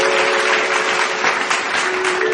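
Loud, dense applause from a stage-show audience welcoming a singer, a continuous close wash of many hands clapping throughout, with no talk over it.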